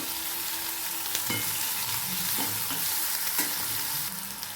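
Chopped onion and tomatoes sauté in a pan with a dense, continuous sizzle, broken now and then by the soft scrape of a stirring spoon.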